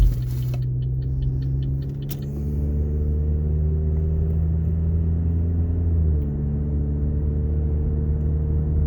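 A car engine idles low and steady in a deep, even rumble, with a brief clicking and a sharp knock early on and a slight dip in pitch near the end, no talking.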